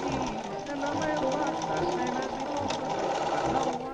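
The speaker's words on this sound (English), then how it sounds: "Then the centre back seam had to be machined closed." A sewing machine stitches the centre back seam of a 1930s-style hat made from scrap fabric, a steady continuous whirring hum running throughout at close range.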